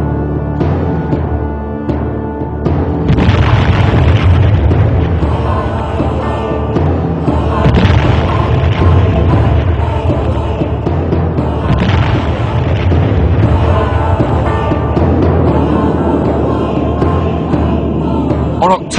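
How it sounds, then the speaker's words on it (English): A Soviet nuclear bomb test explosion sounds as a sustained, loud roaring rumble with repeated heavy booming surges. The thunderous blast continues for the whole stretch without any voices. "is where the Russians demonstrated their nuclear might, testing bombs of ever-increasing power."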